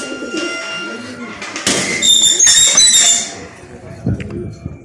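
Najafi pigeons coo in a loft, soft repeated low calls alongside squeaky chirps, close by, while someone talks over them.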